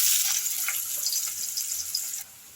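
Bright, hissing sizzle of chopped onion frying in hot oil, loud and continuous at first, then dropping off abruptly near the end.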